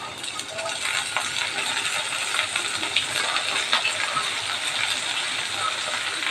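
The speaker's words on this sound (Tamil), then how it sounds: "ஊற வச்ச கடலைப்பருப்பு இதில் போட்டுடலாம்" Soaked chana dal hits frying onions in hot oil, raising a steady bright crackling sizzle with scattered little pops, close and fairly loud throughout.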